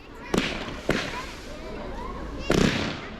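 Evolution Tranquil firework cakes fire during an outdoor display in Liverpool, with three sharp, fairly muted launch thumps spaced unevenly over a low background rumble, and someone talks over them.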